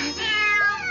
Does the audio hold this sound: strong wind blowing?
no